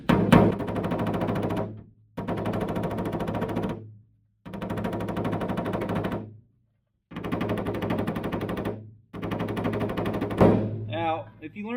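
Rapid hammering on a body panel of an abandoned 1966 Dodge crew cab, five loud bursts of fast metallic pounding, each about two seconds long, separated by short silences.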